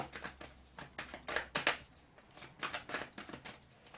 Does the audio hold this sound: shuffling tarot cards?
yes